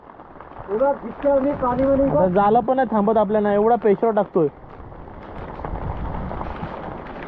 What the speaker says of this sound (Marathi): पाऊस भरपूर पडायला लागलाय